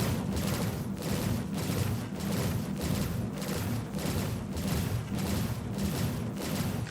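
Rapid repeated cannon fire from M5A ship cannons in the space game Star Citizen, a steady rhythmic barrage of heavy thumping shots about once a second, dense and loud throughout with no talk.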